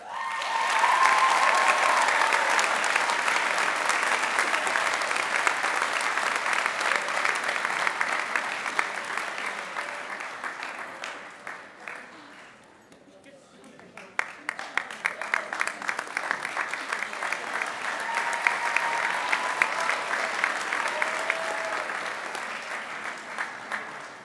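A high school gym crowd at a senior assembly gives a long round of applause, dense clapping that dips briefly midway, then swells again with scattered cheers.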